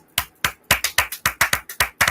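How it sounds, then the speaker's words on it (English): Applause from hands clapping: around ten loud, crisp claps close by at a quick, steady pace, with no voices over them. "Big applause"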